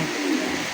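A pigeon coos once at close range, a soft low throaty call lasting under a second against faint background hiss.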